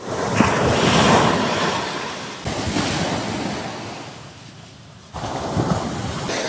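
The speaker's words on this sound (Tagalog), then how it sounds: "malalaki yung hampas ng alon" Big ocean waves crash on a beach in continuous loud surges of roaring surf, rising and falling with wind noise.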